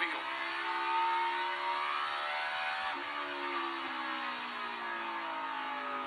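A NASCAR stock car engine coming off throttle into turn one, its steady whirring drone easing and falling in pitch as it rolls the corner, loud and close with no talk.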